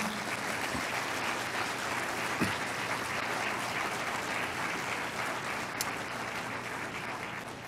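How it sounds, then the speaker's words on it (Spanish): A church congregation applauds during a sermon, a sustained wash of many hands clapping at moderate distance that holds steady for several seconds with no speech over it. "eso merece un aplauso al Señor"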